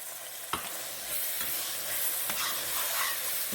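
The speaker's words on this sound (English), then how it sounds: "now I'm going to sprinkle flour on her. I'm going to make a roux." Flour stirred into sizzling tomato sauce to make a roux for shepherd's pie: a steady frying hiss, with a few scraping stirs of a utensil against the pan, close and alone.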